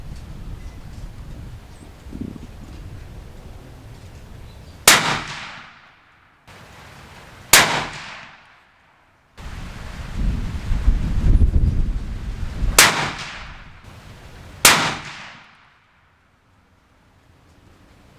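A Thompson Center Compass II rifle in .338 Win Mag fires four loud, sharp shots at uneven intervals, each a hard crack with a quick decaying tail, between stretches of wind and rustling outdoors.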